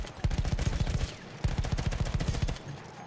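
Bursts of rapid gunfire from the video game Battlefield 1 crackle at a moderate distance in two quick strings, each shot sharp and evenly spaced, with a short gap between the bursts.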